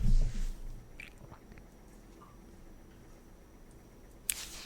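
Close, wet chewing and gnawing sounds from a dog, a burst of crunching at the start and a sharp click near the end, with no talking.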